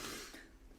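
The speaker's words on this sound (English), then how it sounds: "And enjoy the cough." A single short, breathy cough, close and fairly quiet, fading out within a second.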